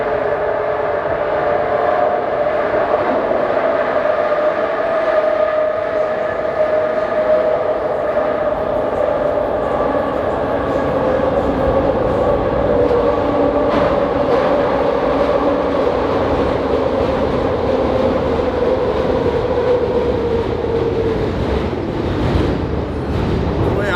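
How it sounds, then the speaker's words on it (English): A train rumbles past continuously, with a heavy rolling roar and a droning, slightly whining tone that holds steady throughout. "I have this damn train."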